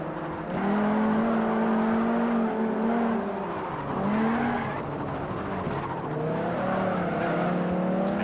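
A racing car's engine in Forza Horizon, set in Japan, revs loudly with a rising and falling tone and shifting gears, while tires squeal briefly now and then; no talking is heard.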